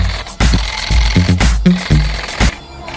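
A handheld tufting gun works on a custom carpet, firing in loud, close bursts of rapid mechanical rattling that stop and restart several times, with brief pauses between runs.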